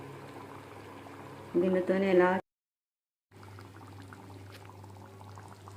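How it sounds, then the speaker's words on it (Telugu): Andhra-style pandugappa fish curry (ighuru) bubbling steadily in a pot nearby, a soft continuous boil; a voice speaks briefly over it before a short silent gap, then the simmering resumes alone. "చూసారా ఎలా ఉడుకుతుందో?"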